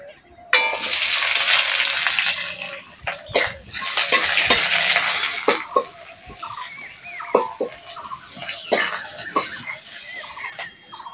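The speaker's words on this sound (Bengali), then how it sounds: "3টে শুকনো লঙ্কা নিয়েছি ফোড়নের জন্য, ফোড়ন দিয়ে দেবো। পেঁয়াজ কুচনোটা দিয়ে দেবো।" Dried red chilies and chopped onion hit hot oil in a wok, bursting into loud hissing sizzles in waves, broken by sharp clanks of a spatula against the pan close by.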